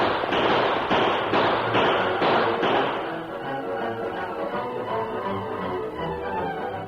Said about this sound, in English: the first volley of lead that whistled among them caused surprise and consternation